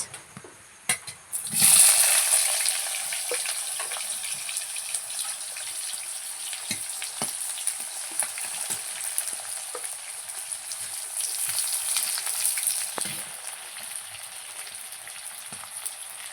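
Chopped onion goes into hot oil with whole cumin seeds and bursts into a loud sizzle, then settles into a long, steady frying hiss with scattered crackles and stirring knocks, swelling again briefly later.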